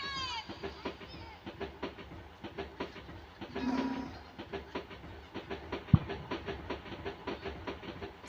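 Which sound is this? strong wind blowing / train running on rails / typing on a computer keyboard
train running on rails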